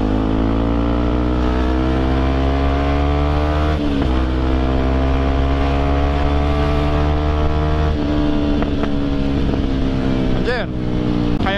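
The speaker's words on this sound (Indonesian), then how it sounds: "Backfire gitu knalpotnya, cuy." A Yamaha WR155 motorcycle engine drones steadily and loud while riding at night, with wind rush and a few sharp exhaust pops near the end; voices talk over it.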